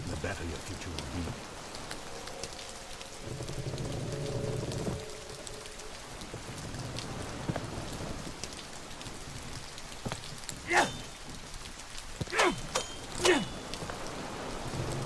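Rain falls at night in the video game The Mound: Omen of Cthulhu, a steady hissing patter with a low droning tone in the first half and a few louder sharp hits near the end.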